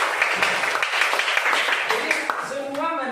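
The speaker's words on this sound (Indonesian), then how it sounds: "Tepuk tangan dulu semuanya sudah jujur." Classroom applause from a group of students, busy overlapping claps with voices mixed in that fade toward the end, where speech takes over.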